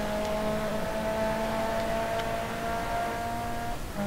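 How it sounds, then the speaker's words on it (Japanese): Honda race car engine in GRID Autosport drones steadily at high revs, a loud sustained tonal whine with stacked harmonics held almost unchanged for the whole stretch, dipping slightly near the end. "エンジン音いいね"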